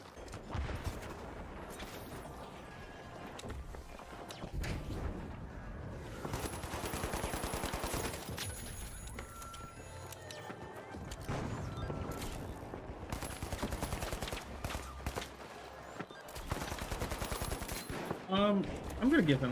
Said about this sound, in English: I'm kind of feeling the AK right now.